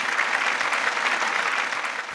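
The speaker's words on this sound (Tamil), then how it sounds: "நல்ல கைத்தட்டல் தாங்க அவருடைய அப்பாவுக்கு." Dense, even clapping from a seated audience honouring a donor's father at a Madurai event, a continuous wash of handclaps with no talk over it.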